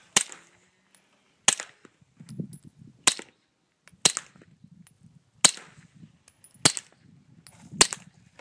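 Seven sharp gunshot cracks from a suppressed 9mm Glock pistol, fired at irregular intervals about a second apart, each a loud snap with brief low rumble and faint handling noise between shots; no talking.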